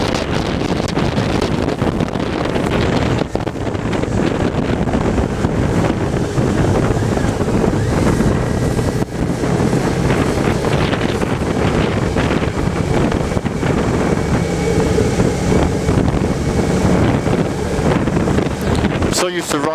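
Heavy, constant wind buffeting a microphone on a moving motorbike, a loud roaring rush that masks everything else for the whole stretch.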